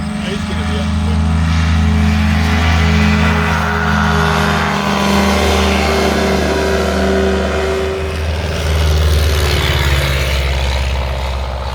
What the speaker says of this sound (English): engine is Ford Model A, and year of manufacture 1929, and this thing just flew in